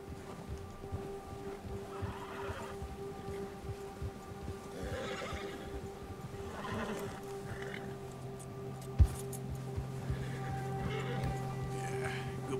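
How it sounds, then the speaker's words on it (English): Horses whinnying and neighing repeatedly in Red Dead Redemption 2, several distinct calls spread across the span with soft hoof clip-clop beneath, a sharp thump partway through and occasional talk. "The horses need to shut up."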